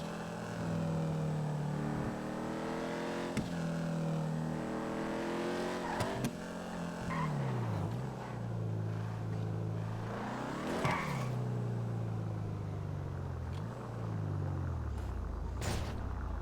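A game car engine in GTA V revs up and down through repeated gear shifts, with rising and falling pitch sweeps over a continuous rumble for the whole stretch, moderately loud.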